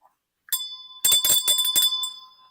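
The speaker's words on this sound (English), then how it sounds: "ring that bell" A bright bell rings out in a short burst of rapid metallic dings that trail off, heard alone and clear.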